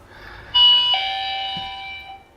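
A home intercom doorbell linked to a camera unit chimes once, a clear electronic two-tone ding-dong ringing out and fading over a couple of seconds in a quiet room.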